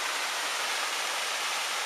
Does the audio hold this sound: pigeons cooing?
no